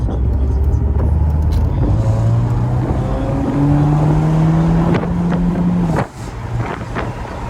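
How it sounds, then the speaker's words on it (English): A 1997 Mercedes SLK 230 Kompressor with a supercharged 190 hp engine accelerating through several gear changes, its engine note climbing in pitch then dropping at each shift, loud and close with wind noise over the microphone. "Drive acceleration from 190 brake horsepower, supercharged engine."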